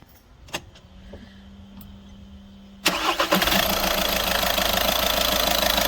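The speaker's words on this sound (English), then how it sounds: "So I'm gonna start the engine now and let's see what the difference is." After a quiet stretch with small clicks, a 2014 Skoda Superb 1.6 turbo diesel engine cranks and catches, then settles into a steady, loud idle close by, following a turbo wastegate actuator replacement.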